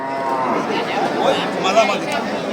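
A cow lows amid the murmur and chatter of a busy crowd at a cattle market, with people talking nearby over the general din.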